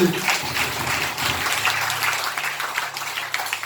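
A church congregation claps together in a steady, dense patter of many hands during a worship service, continuing evenly throughout.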